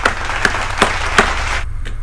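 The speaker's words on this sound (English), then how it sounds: "Clap that up for Lama Arts and all those other special animators." A handful of sharp, spaced hand claps, roughly five, ring out over a steady background hiss, with no talking.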